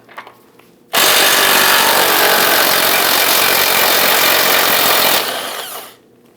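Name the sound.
power tool loosening 18mm ball joint nut on Volvo S60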